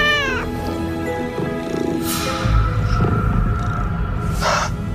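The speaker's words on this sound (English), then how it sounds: "Cats are the guardians of the afterlife." A cat gives a long, drawn-out meow that rises and wavers, followed by further vocal calls and a second meow near the end, loud and close over a steady background.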